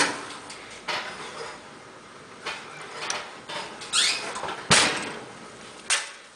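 Quiche cups baked at 400 degrees being pulled from the oven for a breakfast prep, heard as a series of close metallic clanks, rattles and sliding knocks of the rack and pan, irregular and moderately loud.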